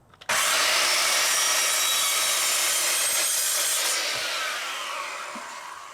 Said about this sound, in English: So one of the things I need to do is cut the top of this piece off just so you can't see it.